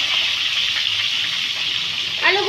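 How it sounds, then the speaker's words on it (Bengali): Potatoes dropped into hot oil to fry give a continuous loud hissing sizzle close up, steady throughout with a short voice at the end. "আর এই তেলটা আছে, এর মধ্যে আমি আলুগুলো দিয়ে দিচ্ছি। আলুগুলো আমি একটু ভেজে নেবো।"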